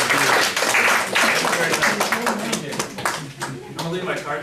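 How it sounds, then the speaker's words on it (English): Applause from a small lunch-and-learn audience for a presenter at a financial literacy session, brisk clapping throughout with speech blended in. "Please join me in a round of applause for Mr."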